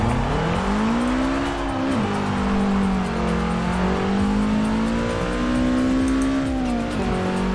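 Car engine revving hard at a race start in the Forza Horizon 4 video game, a loud close drone climbing steadily in pitch with two quick gear-shift dips and tyre noise underneath.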